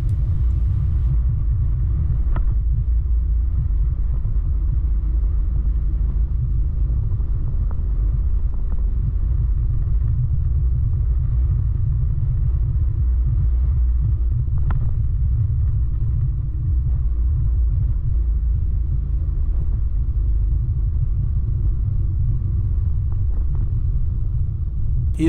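A car drives along a country road in Hessen near Höchst an der Nidder toward Altenstadt, giving a steady low rumble of engine and road noise throughout, with no talking.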